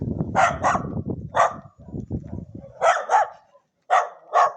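A dog barks in about seven sharp, loud, close bursts, some in quick pairs, with low rumbling noises and brief pauses between them.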